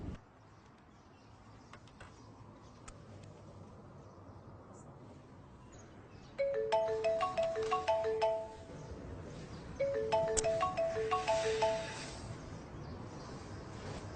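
A phone ringtone for an incoming call chimes in two bursts of bright repeating melodic tones, moderately loud over a quiet room background.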